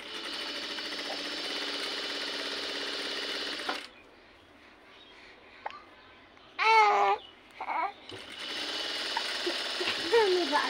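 An electric sewing machine stitches piping onto the side seam of a dress, running in a long steady whirring burst, pausing while someone talks, then starting up again loudly.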